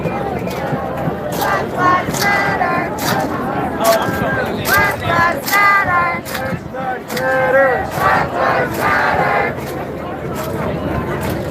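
A crowd at a Philadelphia protest keeps up loud, continuous chanting and shouting, with rhythmic bursts of voices rising and falling across the whole stretch of sound.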